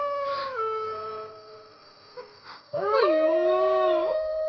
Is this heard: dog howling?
yes